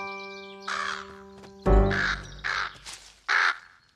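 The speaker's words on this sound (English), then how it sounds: "It's our friend, Mr. Crow." A crow in a children's cartoon caws several times, loud and close, with harsh calls after a soft tonal opening.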